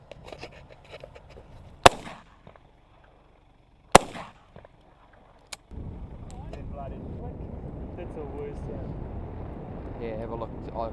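A shotgun fired at a rabbit in New Zealand countryside: two sharp, loud isolated blasts a couple of seconds apart, followed by a fainter crack, then steady wind or motor rumble with people talking.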